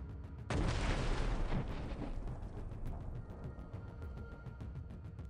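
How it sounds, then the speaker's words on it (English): An enemy ammunition depot explodes after a drone strike, one sudden loud blast that bursts in and then rolls into a long, decaying rumble with crackling debris. "discovered and destroyed an enemy ammunition depot"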